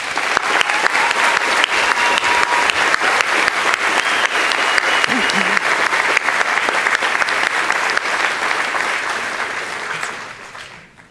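A commencement ceremony audience claps steadily in a dense, loud, sustained round of applause that fades out toward the end.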